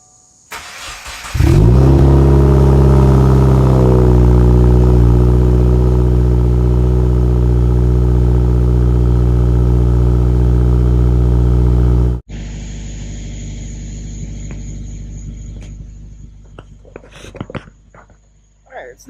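A car engine with a stage 2 tune and upgraded exhaust fires up and revs, holding a deep, loud steady drone close to the exhaust, then drops to a quieter rumble as people move and talk nearby.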